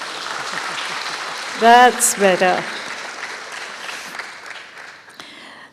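A proper round of applause from a panel discussion audience swells into dense, steady clapping that carries through the whole stretch, briefly interrupted by someone speaking over it before the clapping tapers off toward the end.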